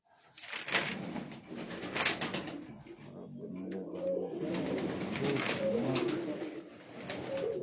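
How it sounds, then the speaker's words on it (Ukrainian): Domestic pigeons in a loft in Ukraine's Mykolaiv region cooing repeatedly and close by, with soft bird calls overlapping in steady rounds and no talk. "з другої, з второї пари одне голубенятко молочне"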